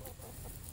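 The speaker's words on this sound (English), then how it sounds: "He is just a wonderful rooster, a wonderful boy." A rooster being kept for breeding clucks in a back garden, a short, close burst of low fowl vocalizing set against steady outdoor background noise.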